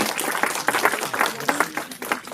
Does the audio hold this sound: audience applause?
yes